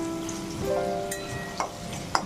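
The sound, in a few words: potatoes frying in oil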